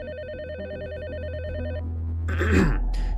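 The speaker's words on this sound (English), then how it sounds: "out of nowhere, my phone rings" A telephone rings in a steady electronic bell-like pattern for about two seconds, followed by a brief burst of rustling noise as the call is picked up, with no talk.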